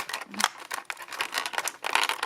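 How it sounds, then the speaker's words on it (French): Several quick snipping and crinkling sounds close by as scissors cut string, short bursts repeating irregularly with no voices. "je pense que je vais couper la ficelle"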